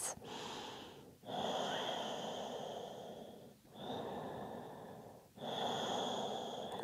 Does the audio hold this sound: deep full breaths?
yes